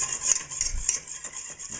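A whisk scrapes and stirs a chowder base in a pot, a steady close rasping swish that keeps a brisk rhythm, with a few dull knocks against the bottom and no talking.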